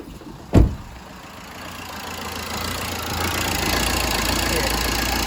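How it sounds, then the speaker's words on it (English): After a sharp knock, the 1.3 litre diesel engine of a Fiat Fiorino van starts and settles into a steady, rumbling idle that grows slightly louder, nearby and continuous. "If I turn the vehicle on"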